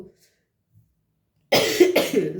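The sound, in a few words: cough from a cold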